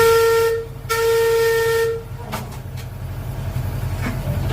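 Tourist heritage train whistle sounding as it departs near Chevallum, Queensland: a loud sustained tonal blast with a brief break, then fading into rumbling rail and engine noise with a few faint clanks.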